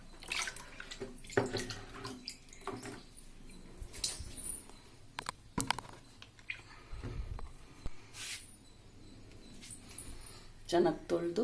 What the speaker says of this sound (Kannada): ಚೆನ್ನಾಗಿ ತೊಳೆದು ನೀರಾಕಿ ಇಡಬೇಕು.